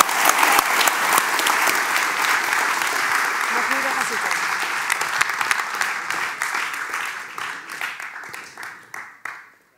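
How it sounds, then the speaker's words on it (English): Audience at a graphic design and activism event applauding a speaker, full sustained applause with scattered voices that thins into individual claps and dies away at the end. "So a big applause for Lies Ros."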